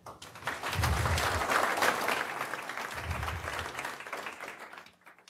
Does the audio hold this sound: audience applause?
yes